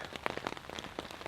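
Scattered light raindrops tap on the fabric of a cheap Coleman tent on a mountain night, faint irregular pats close by, with no talking.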